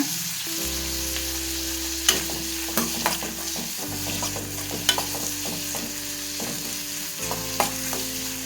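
Drumstick flesh sautéing in a pan for a Tamil-style thokku, a steady sizzle and frying hiss with a spoon scraping and stirring through it in repeated sharp clicks, close and moderately loud, with a low hum underneath.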